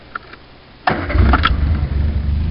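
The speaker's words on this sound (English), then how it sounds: "Turn the key, fires right up." A 1979 Triumph Spitfire with steel bumpers cranks briefly and fires up with a key turn, a sudden loud catch settling straight into a steady, close engine run.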